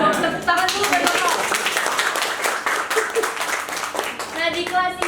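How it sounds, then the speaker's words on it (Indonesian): A classroom of students clapping together for a classmate, brisk close hand claps with children's voices and chatter mixed in, tapering briefly midway before picking up again. "Tepuk tangan dulu buat Novel"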